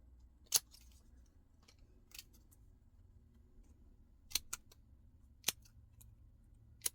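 Scissors snip doubled craft foam for a card in a few sharp, isolated cuts, close and crisp against a quiet room, with pauses between them.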